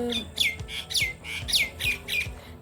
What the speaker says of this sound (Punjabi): ਪੰਛੀ ਬੋਲ ਰਹੇ ਨੇ